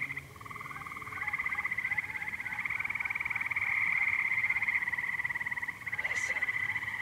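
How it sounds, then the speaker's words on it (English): A steady chorus of frogs croaking in a continuous trill, sustained throughout, with a faint low hum of passing traffic beneath. "Frogs or toads, something."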